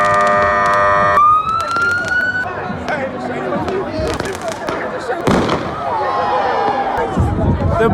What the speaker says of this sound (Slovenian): Rakete iz vseh strani, petarde iz vseh strani